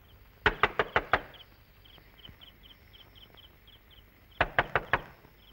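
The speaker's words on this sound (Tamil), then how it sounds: "யாரோ கதவு தட்டுறாங்கம்மா." Knocking on a door in two separate bursts of five sharp, loud raps each, near and clear, with faint insect-like chirping ticking in the quiet gap between them.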